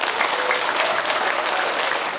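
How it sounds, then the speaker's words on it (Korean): Party members in a Gimcheon hall break into sustained applause after a lecture by lawmaker Na Kyung-won, a dense, steady wash of clapping at even loudness throughout with no voices above it. "소개해 주신 나경원 의원님께 다시 한번 큰 박수 부탁드립니다."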